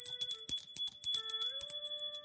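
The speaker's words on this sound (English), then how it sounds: "Let's ring the bell for freedom and get this show on the road." A bell rung to open an evening spiritual teaching talk, struck repeatedly in quick bright strokes with sustained ringing tones layered over one another, close and clear with no talking.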